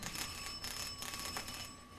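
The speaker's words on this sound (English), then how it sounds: "the least he could do is answer his own doorbell" A faint electronic bell rings steadily, its thin tones held without a break.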